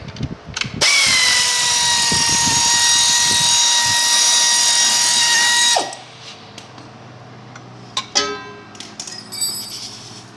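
A power tool drives off a lower bolt holding a KoldSpray pump, giving a loud, steady high whine for about five seconds. It stops abruptly, then a few metallic clicks and clanks follow as the tool is set down and parts are handled.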